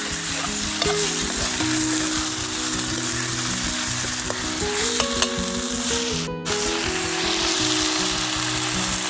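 Chicken fries loudly in a pan while a utensil stirs and scrapes through it, a continuous close sizzle with repeated clanking strokes throughout, no voices.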